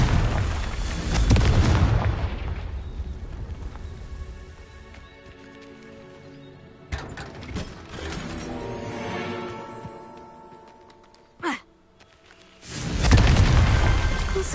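Confringo blasting spell explosions in the video game Hogwarts Legacy, a loud rumbling boom at the start, a sharp burst midway with crackling debris, a quick pop later and another heavy boom at the end.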